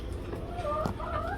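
Backyard laying hens cluck close by, a quick run of short clucks and rising squawks over low background noise.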